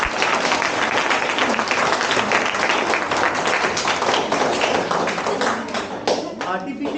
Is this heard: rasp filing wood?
no